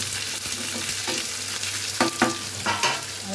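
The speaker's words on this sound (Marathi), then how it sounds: "आता टोमॅटो टाकलेले आहेत आणि मस्त उलटपालट करायचे आहेत त्याला।" Chopped tomatoes fry in a pan with a steady close sizzle, broken by a few scraping stirs and clatters as they are tossed.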